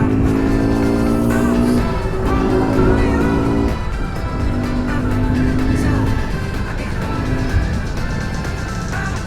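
A Royal Enfield Himalayan BS6 motorcycle on the Mumbai-Pune road gives off a continuous engine drone mixed with heavy road and wind noise, loud and close throughout with no speech.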